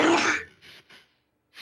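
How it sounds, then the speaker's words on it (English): A sneeze-like burst opens loud and close, then fades into a few faint, short breathy sounds with quiet gaps between them. "I hope you didn't just hear those sneezes."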